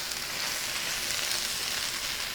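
Peppers, onions and chicken frying in a pan for a Roman-style dish, a steady close hiss and crackle of sizzling oil with no talk.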